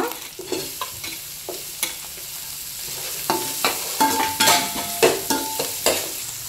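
Onions and green chillies frying in oil, a loud, close sizzle broken by repeated sharp scrapes and taps of a spoon stirring the pan, the strokes growing more frequent toward the end.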